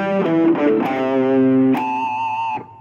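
Distorted electric guitar playing a riff, loud and alone, with sustained overdriven notes stepping through the melody before a brief higher bend and cutoff.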